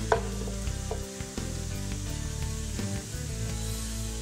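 Onions frying in oil with cardamom hiss steadily at close range, with a few stirring scrapes, beneath background music.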